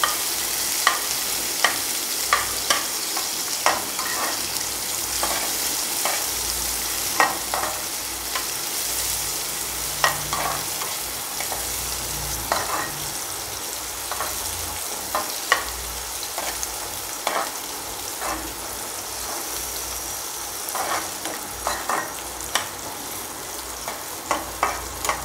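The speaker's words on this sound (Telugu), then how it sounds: "ఆనియన్ అయితే బాగా ఫ్రై అయిపోయిందనమాట ఆయిల్లో" Onions and crushed garlic cloves fry steadily in oil for drumstick-leaf (muringa) fry, a continuous broadband sizzle broken by regular scraping clicks of a stirring spoon against the pan.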